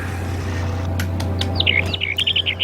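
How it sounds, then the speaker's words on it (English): Birds chirp and tweet in the fantasy video game Two Worlds, a run of short high calls growing busier in the second half over a low steady ambient hum. "I just want to hear a little bit of birds, just so they're pretty."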